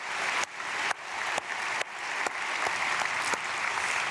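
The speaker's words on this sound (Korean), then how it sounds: "크게 박수하겠습니다" A church congregation at an early-morning prayer service bursts into loud applause, with sharp claps rising and resetting in repeated waves from a crowd filling the room.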